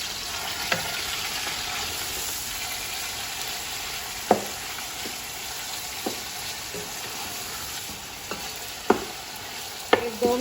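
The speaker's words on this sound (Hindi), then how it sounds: "तो चिकन और प्याज इकट्ठे ही हमें इसको भून देंगे," Chicken strips and onion frying together in a pan, a continuous soft sizzle punctuated by occasional spatula scrapes and clinks at irregular intervals, with no talk.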